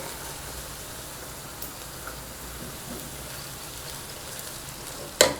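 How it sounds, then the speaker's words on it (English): A chapati cooking in a pan on high heat after being turned and coated with cooking oil: a steady, soft hiss of sizzling oil throughout, ending in a brief sharp clatter near the end. "Now then I'm going to turn it and add some cooking oil."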